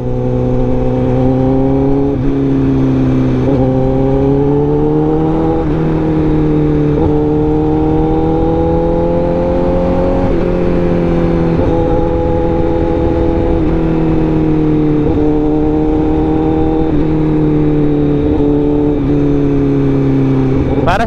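A Honda CBR motorcycle engine idles loud and close, rising and falling in repeated revs with a rough, steady drone between them.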